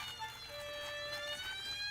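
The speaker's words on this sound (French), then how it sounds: "Caillou s'amusait avec son camion de pompiers." A cartoon toy fire truck's siren wails steadily and faintly for a couple of seconds, rising and falling tones with no talk over it.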